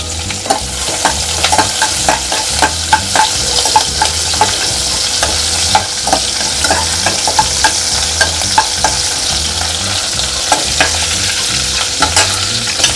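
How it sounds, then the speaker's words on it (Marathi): Ginger and green chillies fry in hot oil with a steady sizzle, while a spoon scrapes and taps against the pan in an irregular stirring rhythm throughout. "आले आणि तळणी मिरसांग घालता."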